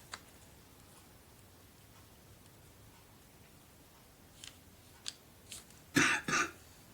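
A person coughing indoors during a craft session, a few faint throat sounds followed by two louder, closer coughs near the end after mostly quiet moments.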